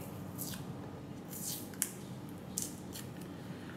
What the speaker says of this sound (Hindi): तो हम इस टेप का एक पीस रिप कर लेंगे